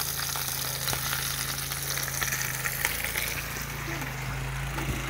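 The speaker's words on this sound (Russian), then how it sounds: "Вот традиционную картошечку жарим." Potatoes fry steadily in a pan, giving a continuous close sizzle and crackle with a low hum beneath and occasional clinks, with no speech.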